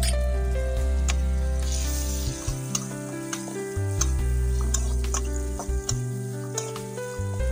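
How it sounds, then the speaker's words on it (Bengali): Chopped onion frying in a pan for a pangas catfish curry, a loud steady sizzle with light ticking stir sounds under a low background tone, no speech. "এবার কিছুটা কুচানো পেঁয়াজ দিয়ে সেটাকে ভালো করে ভেজে নেব"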